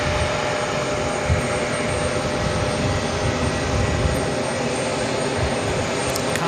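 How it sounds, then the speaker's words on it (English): A Delta Connection CRJ 900 LR regional jet operated by Endeavor arrives at JFK, its engines producing a steady, loud broadband roar that holds evenly throughout with no pauses. "Delta connection, operated by Endeavor, flight 5207. It's a CRJ 900 LR."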